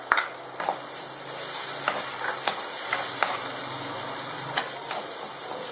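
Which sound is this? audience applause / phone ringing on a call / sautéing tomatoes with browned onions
sautéing tomatoes with browned onions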